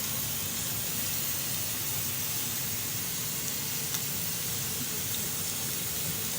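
Ginger fries in a pan for a chickpea curry, giving a continuous, even sizzle and hiss that stays steady and close throughout with no talking.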